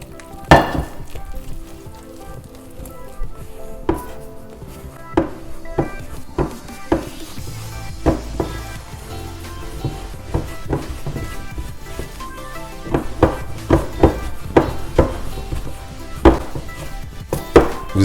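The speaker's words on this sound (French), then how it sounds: "vous venez mélanger avec votre spatule" Churros dough being worked with a spatula in a pan, irregular sharp knocks and scrapes of the spatula against the pan over soft sizzling, close and fairly loud, growing busier toward the end.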